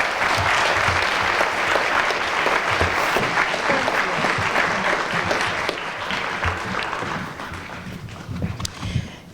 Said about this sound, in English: Please join me in another round of applause to all of these exceptional AACPS awesome